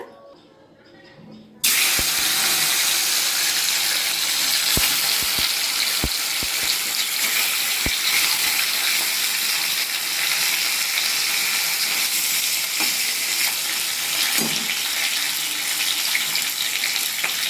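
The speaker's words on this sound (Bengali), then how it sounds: "এবার মাছগুলো ভাজতে দিয়ে দিলাম" Salted, turmeric-rubbed katla fish pieces hit hot oil in a karahi and burst into a loud, steady hiss and sizzle that continues close up, with occasional small clinks.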